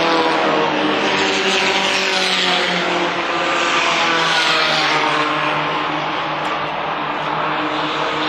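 Compact race cars roar around Winchester Speedway during a 20-lap feature, a dense, continuous engine drone with overlapping cars that stays loud and steady throughout.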